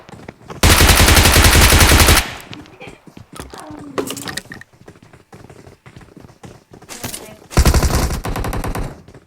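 Loud automatic gunfire in the PUBG battle-royale video game, two long sustained bursts of rapid shots near the start and end, with scattered single shots and game noise between them.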